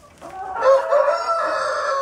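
A single rooster crows nearby, one loud drawn-out cock-a-doodle-doo that swells and then trails off, heard on its own.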